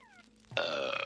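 A burp sound effect redeemed by a livestream viewer: a short tonal lead-in, then one loud, sustained, throaty belch that holds to the end, with no talking over it.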